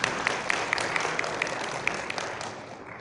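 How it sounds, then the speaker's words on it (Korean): An audience at a Google I/O Extended Seoul 2016 talk applauds, a dense spread of clapping with a few sharper close claps that slowly tapers off near the end. "박수로 맞이해 주세요."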